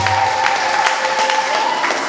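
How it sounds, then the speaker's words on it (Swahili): Church congregation applause during a church celebration service, heard as a steady, dense wash of clapping with a faint sustained tone running underneath, moderately loud and continuous for a couple of seconds. "Hebu tumpe Yesu makofi kwa ajili ya idara nzuri."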